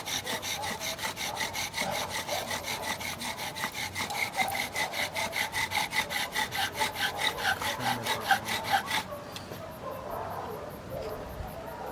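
Wooden hand drill spun fast into soft wood to make a fire ember, a close, steady rhythmic rasping of wood on wood for about nine seconds before stopping abruptly into quiet outdoor ambience.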